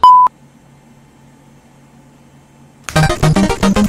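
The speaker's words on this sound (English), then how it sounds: "Leave your message after the beep." A single short, loud answering machine beep sounds at the start, then near silence with a faint low hum, before a voice begins speaking at the end.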